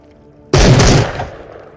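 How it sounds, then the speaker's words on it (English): A single loud blast from a sawed-off IZH-27 shotgun in the VR shooter Into The Radius, a sharp close report followed by a short decaying echo, with no talk. "We also have this sawed-off version of this shotgun that is lighter, but louder when shooting and slightly less accurate"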